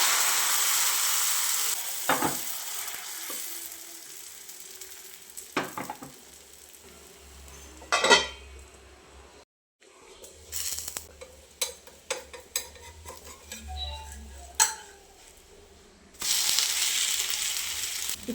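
Pada dosa batter sizzles on a hot dosa stone greased with coconut oil, Kasaragod style: a loud steady hiss at the start, quieter scraping and clinks through the middle, then a strong sizzle swelling again at the end.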